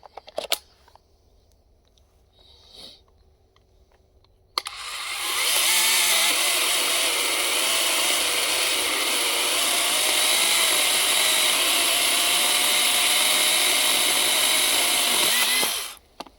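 A GRAND cordless battery chainsaw starts abruptly after a few seconds of quiet handling noise, then whines loudly and steadily for about eleven seconds before cutting off.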